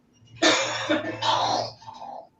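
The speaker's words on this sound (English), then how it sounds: "That wasn't me coughing in the background." Several coughs and throat-clearing sounds come in a short burst of two or three bouts, moderately close and fairly quiet, with no talk over them.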